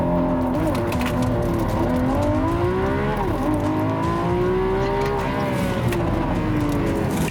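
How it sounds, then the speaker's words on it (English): A Lamborghini Aventador SVJ's V12 roars steadily under hard acceleration from a launch, loud and continuous from inside the car, its engine pitch climbing and dipping through gear changes. "Maybe you should try to launch it. I am launching."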